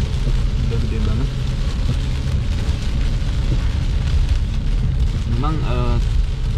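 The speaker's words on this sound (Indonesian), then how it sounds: "sudah gede banget hujannya ini" Heavy rain pours steadily at a miqat site in Saudi Arabia, a dense continuous wash of noise that stays loud throughout, with a brief rising tonal sound near the end.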